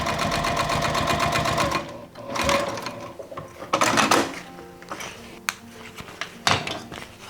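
A sewing machine top stitches a folded seam allowance on a handmade bag, running in a steady continuous burst for about two seconds, then stopping into scattered clicks and fabric handling.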